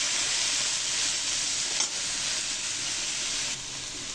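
Cabbage fried with spring onions in a pan, stirred over a steady, close sizzle and hiss with a couple of faint scraping strokes, no voices.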